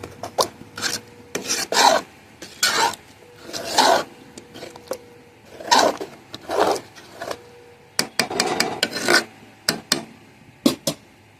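A spoon scrapes and stirs vegetarian khichuri in a pot, a series of short rasping strokes in uneven bursts with quiet pauses between them, close and fairly loud.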